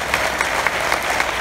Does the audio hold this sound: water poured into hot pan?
no